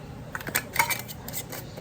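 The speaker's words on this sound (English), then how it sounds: "And got the lids on, get the rings" Metal lids and rings are placed onto jars of home-canned tomato sauce, producing a string of light clinks and taps over a low background hum.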